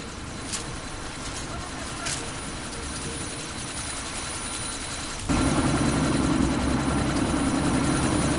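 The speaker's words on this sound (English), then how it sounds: "That chopper's about to take off!" A helicopter in Deus Ex: Mankind Divided whirs steadily at a distance, its rotor drone swelling louder and fuller in the last three seconds as it readies to take off, over game ambience.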